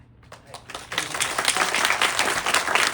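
An audience at a post-show talk in a theater in Tottori, Japan breaks into applause, starting with a few scattered claps and swelling within a second into sustained, dense clapping.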